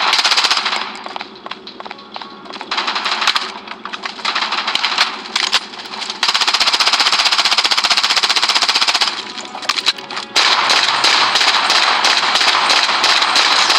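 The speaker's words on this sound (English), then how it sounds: "Defensive turret activated." A defensive turret in the video game Blood Strike fires loud, rapid automatic bursts. The rattling gunfire is nearly continuous, broken by a few short pauses, and there is no talk.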